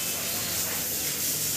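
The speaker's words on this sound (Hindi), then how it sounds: "यहाँ पर टायर का हवा चेक कर रही है" Air hisses steadily from the tyre valve as the pressure is checked on an Apache RTR 160 4V BS6 motorcycle during servicing, a close, continuous broadband rush with no pauses.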